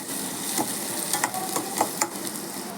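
Steady sizzling of onions and curry leaves sautéing in a pan, with scattered scraping clicks as it is stirred; no voices.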